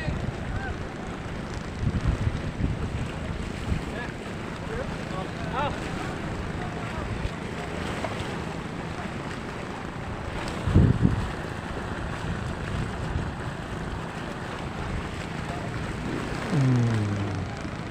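Wind buffets the microphone over a constant rush of water as a boat rides choppy waves, with a few thumps and splashes.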